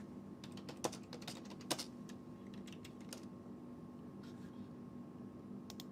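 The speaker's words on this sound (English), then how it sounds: "My keyboard works." Rapid keystrokes on a computer keyboard, with irregular clicks and a few sharper taps, sit over a steady background hum in a live-stream setting.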